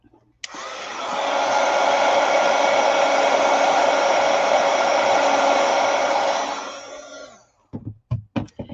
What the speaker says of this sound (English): I'm going to hit that with my heat gun just for a second